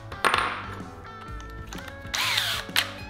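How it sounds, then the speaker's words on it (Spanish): A power drill whirs in short bursts, revving up and down twice with clicks and clatter between, close by and fairly loud. "Aquí vamos a taladrar,"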